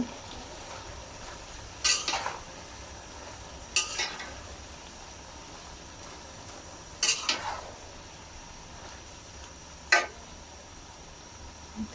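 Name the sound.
stirring food in a cooking pot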